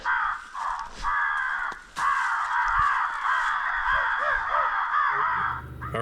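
Crows caw repeatedly and loudly nearby during a spring coastal crow hunt, a dense run of harsh calls that continues almost without pause.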